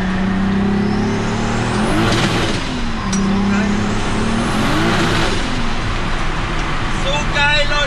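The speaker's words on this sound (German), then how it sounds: "gib mal Gas." A turbocharged Nissan R32 with an ECU Master setup revs up loudly close by, its engine note climbing and falling in repeated sweeps with turbo whoosh and a brief high whistle near the end.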